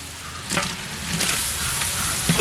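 Onion, tomato and ginger-garlic paste being stirred in a frying pan, a steady close sizzle with a few soft scraping strokes of the spoon, no voices.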